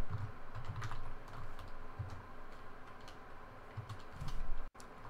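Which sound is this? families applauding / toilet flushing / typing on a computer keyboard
typing on a computer keyboard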